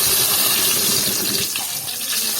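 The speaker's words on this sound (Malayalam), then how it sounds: "അതിലേക്ക് നമുക്ക് കറിവേപ്പില ഇടാം" Curry leaves dropped into hot oil after spluttered mustard seeds, for a banana flower thoran, give a loud, steady, close hiss that fills the whole moment without a break.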